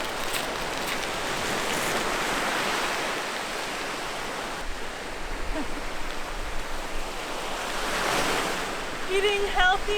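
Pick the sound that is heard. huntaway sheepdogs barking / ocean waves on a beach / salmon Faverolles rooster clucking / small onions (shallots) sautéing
ocean waves on a beach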